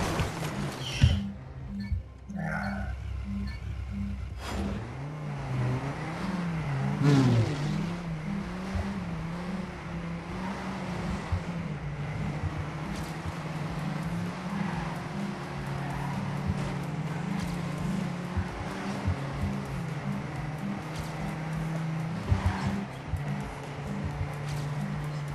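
A race car engine drones steadily through Trackmania 2 Canyon, shifting pitch as it speeds up and as it rises and falls, with a brief harsh jolt early on and a faint tone pattern at the start.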